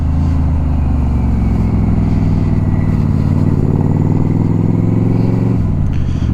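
Yamaha Royal Star XVZ1300 motorcycle, swapped to a single carburetor, heard while riding: a loud, steady, deep engine drone close up, with a slight rise in revs midway and a brief dip near the end.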